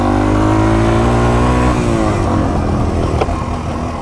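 A Yamaha TW200 motorcycle pulls away, its engine revving up through rising tones and then shifting, loud and close throughout.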